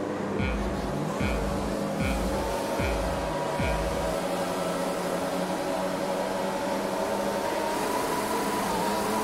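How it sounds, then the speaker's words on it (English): George Russell's Williams F1 car in an F1 video game at Spa, its engine droning steadily with a rising whine as it pulls away, with a few soft thuds early on. "Release the clutch onto the throttle, third gear."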